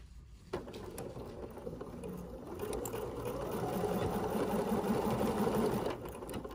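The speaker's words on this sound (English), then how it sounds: "I'm gonna stitch starting right here, and I'm gonna sew for just a couple of inches." A sewing machine stitches through fabric for a couple of inches, a quiet, fast, even mechanical whirring that starts abruptly, runs steadily, and stops near the end.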